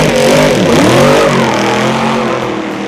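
A 1965 Shelby Daytona Cobra racing car engine revs loudly and close, the pitch climbing and dipping as the throttle is pushed, then settling into a steady roar for a few seconds with no voices.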